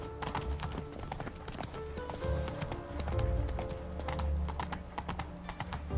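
Roach the horse from The Witcher 3, hooves clip-clopping in a steady, close rhythm over a low background rumble, with no talk.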